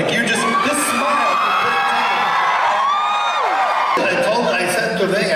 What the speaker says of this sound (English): Squeeing and the cheering and the Tumblr fans and everything.